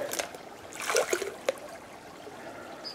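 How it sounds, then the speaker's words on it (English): Water runs and trickles through a prospecting sluice outdoors, with a few splashes and a brief clatter over a steady flowing background. "the water's running a little bit faster now"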